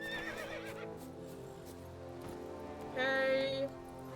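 Roach, the horse in The Witcher 3 video game, lets out one short neigh near the end over a low music bed, with faint hoof clops earlier in the scene.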